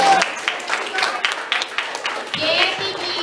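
An audience in a classroom or small gathering gives a guest a short burst of scattered clapping, close and lively, with voices mixed in.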